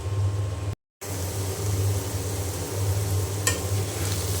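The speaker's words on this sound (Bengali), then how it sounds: "তো উস্তা ভাজিটা করে নেব" Bitter gourd (ustha) bhaji frying in a pan, a soft steady sizzle with faint stirring scrapes over a low fan-like hum, interrupted by a brief dropout.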